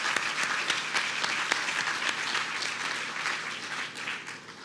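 An audience applauds honorees at a leadership awards dinner, steady dense clapping that holds throughout and tapers slightly at the end.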